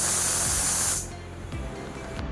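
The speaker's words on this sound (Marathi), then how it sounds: "स्लो टू मीडियम गॅसवर कुकरची 1 शिट्टी आपल्याला काढून घ्यायची आहे" A pressure cooker on the gas releases a loud rushing hiss of steam for about a second, then cuts off abruptly, leaving faint kitchen knocks and a low hum behind.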